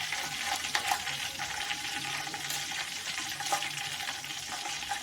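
Cinnamon, cloves and cardamom sizzle in hot oil for paneer biryani, a steady, hissing crackle with no voices over it.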